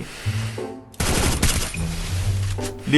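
Rapid gunfire in a shooting video game bursts in after a second of quieter game tones, then stays as dense, close, continuous shots with musical game effects sounding underneath.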